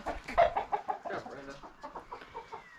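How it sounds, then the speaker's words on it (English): Chickens clucking close by in a quick burst of short, overlapping calls that trail off into softer clucks. "We're going to get all the chickens out of here"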